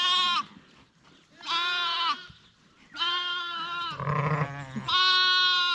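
Young lambs bleat repeatedly while playing on a dirt mound on a farm, loud close calls in several drawn-out bursts with short gaps between them.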